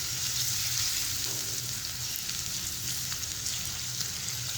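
Onions fry in a pan over a medium-low flame, giving a soft, steady sizzle and crackle close by with no one talking.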